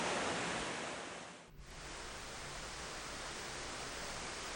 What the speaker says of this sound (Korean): 한층 한층 흐르고 굽이치기를 반복하며 5층의 폭포를 만들어내고 있는 지리산 골짜기의 계단